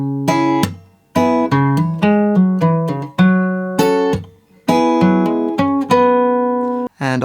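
Guitar plays bars 5 and 6 of a song slowly, with a short melodic line of hammer-ons and open strings plucked in separate phrases, each left to ring before the next, close and clear.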